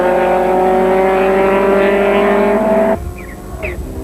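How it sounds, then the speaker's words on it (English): A VW Golf and a BMW race at Kyalami circuit in a 1992 Wesbank Modifieds event, engines howling loud and steady at high revs before the note drops away abruptly as the cars pass. "Jute had squeezed his way ahead of Carr, with the Golf now chasing the BMW."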